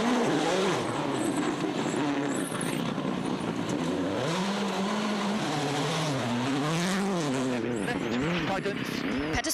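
A WRC rally car on the 2006 Cyprus gravel stages, its engine droning and revving with pitch rising and falling as it slows, heard close under continuous commentary.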